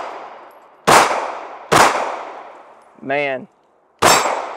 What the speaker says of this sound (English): So we're gonna give her a few shots here.